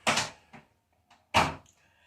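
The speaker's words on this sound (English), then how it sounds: "just gonna close the door because privacy" An indoor door pushed shut, with a loud close rustle and bump, a smaller knock, a faint tap, then a firm final thud as it latches.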